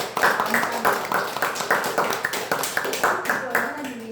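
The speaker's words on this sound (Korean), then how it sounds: "우리 축하의 박수 함께 해주십시오" A church congregation claps together to celebrate a newborn's birth, sharp regular claps repeating at a quick, even pace, mixed with voices and background sound.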